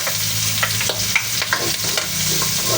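Garlic sizzles in a pan alongside fried pork, a steady close crackle of frying with quick scraping stirs of a spoon or spatula repeating every fraction of a second.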